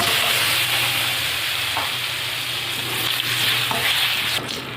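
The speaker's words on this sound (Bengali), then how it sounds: "এবার কটা বড়ি ভেজে নেব।" Steady, dense sizzling of lentil dumplings frying in hot oil, close and continuous, with a few soft stirring clinks; no voices.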